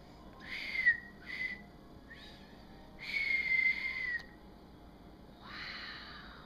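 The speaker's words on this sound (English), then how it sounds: "one more little whistle." A person whistles several short, breathy notes, then one longer sustained tone, fairly close with quiet pauses between.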